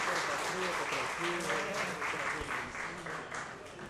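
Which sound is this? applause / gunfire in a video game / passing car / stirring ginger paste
applause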